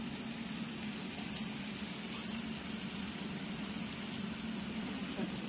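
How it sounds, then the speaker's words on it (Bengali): Water poured into a pan of frying eggplant with ginger and green chilli gives a steady hissing, bubbling rush that stays even throughout. "তারপর জল দিয়ে দেওয়া হবে।"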